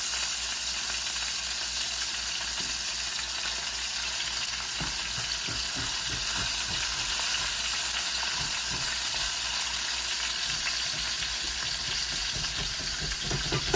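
Chicken frying in a pan without oil, a steady close hiss and sizzle throughout with faint crackles and a few stirring or scraping sounds; no talking.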